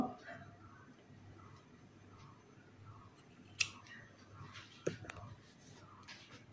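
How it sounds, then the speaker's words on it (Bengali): Scissors snipping fabric while cutting out a kameez, a couple of brief sharp clicks and snips at close range over a low room hum. "সেলাইয়ের সুবিধার জন্যে একটু কেটে দেব"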